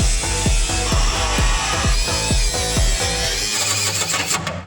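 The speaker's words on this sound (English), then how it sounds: "I think everything's cut that needs to be cut." A power tool cuts through a car's sheet-metal body for a body drop: loud, close, with a steady run of rhythmic pulsing strokes that halts abruptly near the end, no voices.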